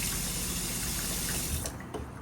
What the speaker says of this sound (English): to draw water from the sink, you pull outward.